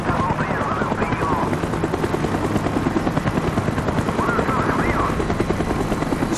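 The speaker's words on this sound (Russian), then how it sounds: "Вертолет идет на второй заход." A helicopter makes a second pass in Call of Duty: Black Ops, its rotor chop loud and constant throughout, with game sounds and speech mixed in.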